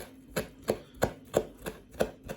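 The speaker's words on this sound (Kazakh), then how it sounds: "Осылай жасыл зеленді ұсақтап тураймыз." A knife chops fresh green herbs finely on a cutting board in a steady, close rhythm of six or seven distinct thuds, about one every third of a second, with no voices.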